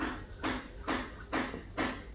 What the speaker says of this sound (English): hammer there in the background